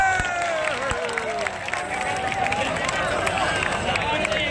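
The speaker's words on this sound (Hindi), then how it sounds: "एक बार जोरदार तालियां बजा दीजिएगा" Crowd applause and cheering for a lucky draw winner at a Tejaji festival program in Sarwar, dense clapping with a hubbub of voices and a talking voice, loud and steady throughout.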